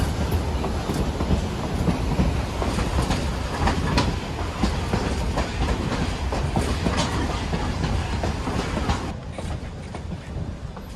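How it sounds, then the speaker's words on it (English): The Durango & Silverton steam locomotive climbs a grade at full power beside the Animas River in the Colorado mountains, a loud, steady, dense roar of exhaust and rolling train noise that eases slightly near the end. "your locomotive will remain at full power with a noticeable change in its sound."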